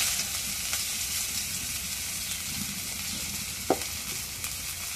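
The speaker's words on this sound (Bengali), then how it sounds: "এখন পেঁয়াজ কলা দিয়ে দিই কড়াই।" Onions frying in a wok, a steady, close sizzle with a few light clicks of stirring.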